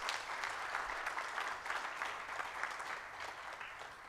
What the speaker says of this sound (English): I request that we give him a deserving round of applause